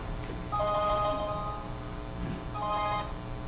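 A mobile phone rings during an advisory board meeting, its electronic ringtone melody repeating in two bursts, moderately loud over quiet room noise with no talking.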